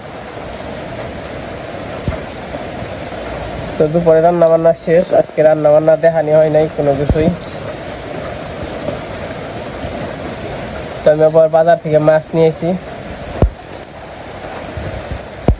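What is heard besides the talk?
rain falling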